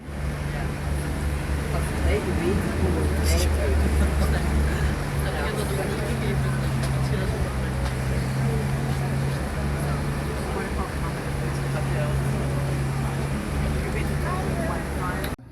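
A small tour boat's motor drones steadily through Copenhagen harbour, a constant low engine hum with water and wind noise throughout, while a guide talks over it.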